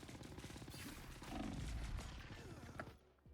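Rapid bursts of heavy machine gun fire with infinite ammo in the game Marvel Rivals, a dense rattling barrage that stays fairly faint and fills almost the whole stretch before cutting off near the end.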